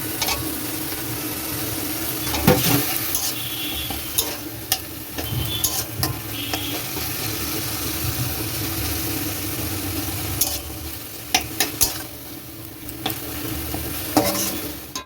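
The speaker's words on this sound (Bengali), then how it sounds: "পেঁয়াজটা থেকে আরেকটু ভাজা ভাজা তেল ছেড়ে দিলে টমেটো দিয়ে দেবো" Onions sizzle in hot oil while a utensil scrapes and stirs the pan, with occasional clinks against the sides and a low background hum.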